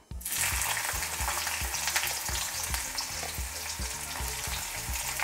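Onions sizzle and crackle loudly in hot oil, a continuous close frying hiss with soft rhythmic stirring bumps underneath.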